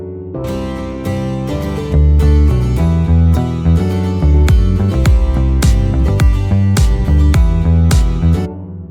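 Low-passed piano in a dance track plays chords in the lower register, warm and muffled, rhythmic and loud, filling the mix without other instruments standing out.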